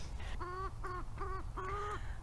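A rooster crows in a backyard garden, sounding as four short harmonic calls in a quick rhythm at moderate distance over a low background hum.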